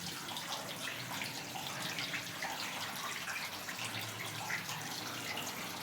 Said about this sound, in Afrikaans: Hoor hoe loop die water. Daar loop water.